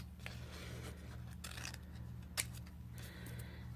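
Quiet snips of scissors cutting paper for a craft project, a few short close cuts over a steady low electrical hum.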